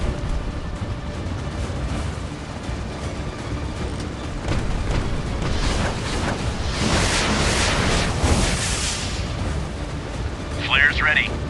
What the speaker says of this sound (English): Preparing turret for shot. Vessel is under attack.